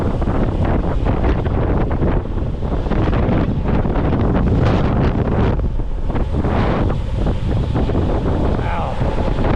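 Strong outdoor wind buffets the microphone in loud, continuous rumbling gusts that roar steadily throughout with no letup.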